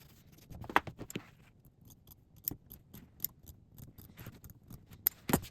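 Scissors snipping through denim fabric while cutting out pieces for a pair of jeans, a series of short, uneven crisp snips close by with quiet pauses between them.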